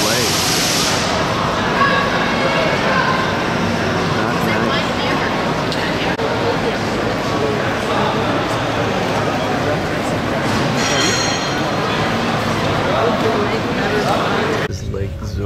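Steady rumbling interior noise of a passenger train riding along Lake Zurich toward Lucerne, a continuous broadband roar with faint rattles that fades slightly at the very end.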